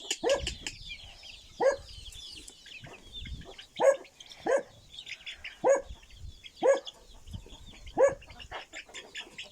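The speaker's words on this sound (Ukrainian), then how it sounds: "собака загавкала" A dog barks repeatedly in short sharp bursts at a steady pace, mixed with clucking chickens and birdsong outdoors.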